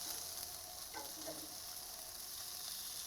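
Bacon-wrapped hot dogs sizzle on a grill outdoors with a faint, steady hiss throughout and soft crackles.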